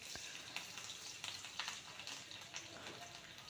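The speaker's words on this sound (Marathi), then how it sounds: "तेल गरम झाल्यानंतर त्यामध्ये जिरे मोहरी टाकून घ्यायची।" Cumin and mustard seeds with garlic frying in hot oil for a guava vegetable dish, a steady close sizzle with small crackles and pops throughout, no talking.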